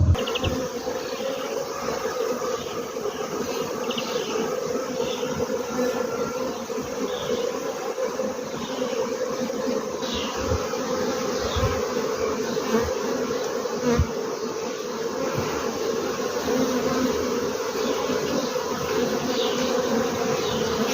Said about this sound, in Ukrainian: Працюють на акації бджілки.